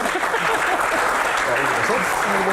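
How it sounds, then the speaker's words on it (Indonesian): Audience applause breaks out at a doctors' association Q&A session, a steady dense patter of clapping with voices mixed in beneath it throughout. "Tepuk tangan dulu."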